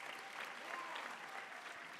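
Steady, dense applause from an audience filling a university graduation ceremony hall, continuous and fairly distant with no pauses, faint crowd murmur underneath.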